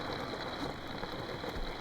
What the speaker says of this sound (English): all of a sudden the rain is back